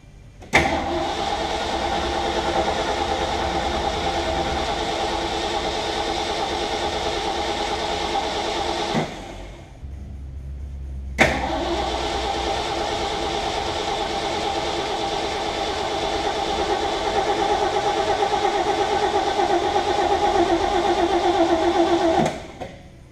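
A Ford F750 haul truck engine cranks and fires into a steady rough run, cuts out briefly, then catches again and keeps running loudly up close for a long stretch.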